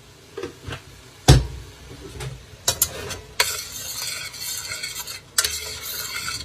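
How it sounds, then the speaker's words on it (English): Spoon stirring taco sauce with butter in a pot for jerk chicken tacos: a loud knock, then several scraping clinks and a stretch of steady rasping stir, close up, with no talking. "Just gonna stir it a bit."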